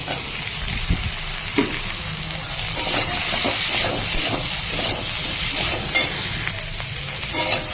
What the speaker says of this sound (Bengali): এবার আমি এখানে ভেজে রাখা ফুলকপিগুলো দিয়ে দেবো